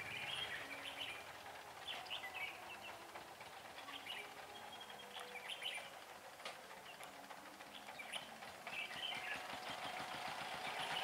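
Red-whiskered bulbul sings with repeated bright chirps and whistled phrases, fairly close, over a steady background hum and rustling.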